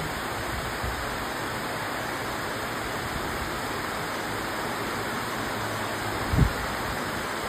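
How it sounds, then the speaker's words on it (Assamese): Heavy rain pours down steadily as a dense, even hiss heard from a balcony near a hillside, with one brief low thump near the end. "আজি একদম বৰষুণ দিছে"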